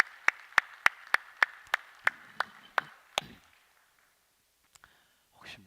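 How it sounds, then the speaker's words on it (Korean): A congregation at a Holy Week special dawn revival service in church claps in a slow, steady unison rhythm, about ten sharp, evenly spaced claps that stop abruptly and leave near silence. "우리 박수로 함께 서로의 축복하겠습니다"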